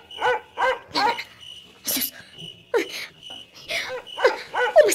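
A dog barks repeatedly at close range in short, sharp bursts. Insects chirp in the background, and one short spoken word is heard.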